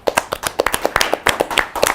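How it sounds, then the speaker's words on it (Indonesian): Clapping in a television sports talk studio: a quick, irregular burst of close, sharp hand claps over about two seconds. "Tepuk tangan dulu dong."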